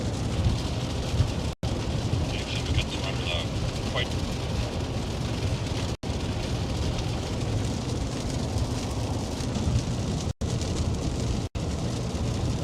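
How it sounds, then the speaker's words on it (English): Heavy rain during a storm drums on a storm chaser's vehicle as it approaches a tornado warning, a dense, steady, loud roar filling the whole span, with brief dropouts. "we're under the quite heavy rain right now"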